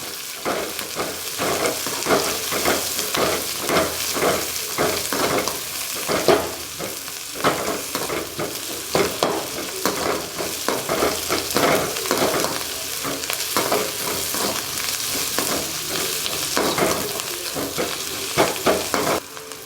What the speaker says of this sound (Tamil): புதினா கொத்தமல்லி இதெல்லாம் சேர்த்துக்கலாம் ஸோ போட்டுக்கிட்டு நல்லா வதக்கி விட்டுக்கலாம்